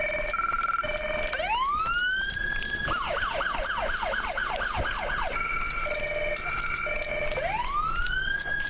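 A European police siren blares close by, alternating two-tone blasts with rising wails and a fast yelping stretch in the middle.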